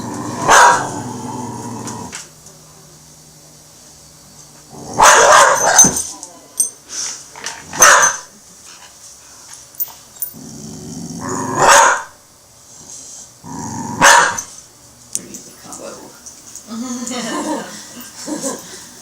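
A reactive dog during a training session barks and growls in loud, close bursts spread across the stretch, separated by quieter gaps, with people talking in between.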